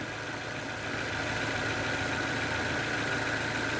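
A Nissan Y11 Wingroad's QG15DE engine idles at around 800 rpm with a rich-running condition, giving a steady close mechanical hum and faint ticking that hold evenly for a few seconds.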